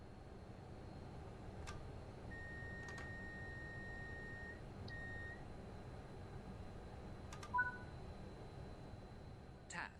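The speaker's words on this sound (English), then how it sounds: "The tilt alarm will sound for a second time." A train simulator's tilt authorization and speed supervision alarm gives a steady sustained beep tone, then shorter tones and brief clicks, over a constant low cab rumble.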